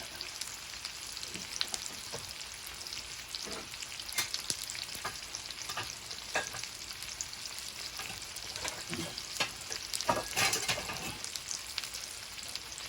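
Meat browning in a frying pan for a surf and turf dinner, a steady close sizzle running throughout with scattered pops and crackles, one brief louder burst near the end, no talking.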